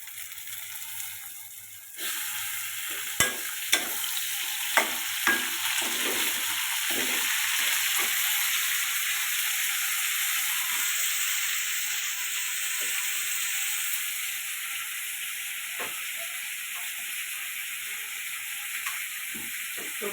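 Tomatoes go into a pan of onions already fried until reddened, with shrimp, setting off a steady, loud sizzle that continues throughout, marked by occasional clicks and stirring taps.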